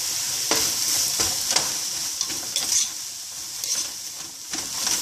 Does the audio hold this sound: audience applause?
no